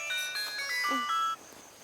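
A mobile phone rings at home with a bright, tinkling melodic ringtone of rising and falling tones, moderately loud and close, lasting over a second before cutting off, with no speech.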